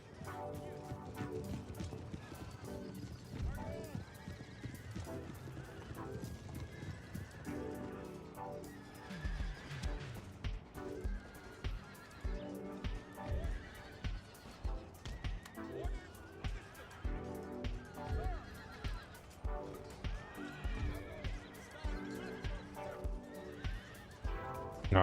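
Cavalry horses charge in the Empire: Total War game, with repeated neighs and whinnies, galloping hooves and battle clamor in a busy, continuous mix, partly under a talking voice.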